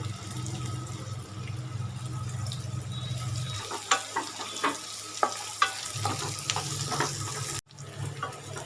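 Nuts and raisins frying in ghee for sheer kurma, a close steady sizzle that thins midway as stirring clicks and scrapes against the pan take over, with no talking.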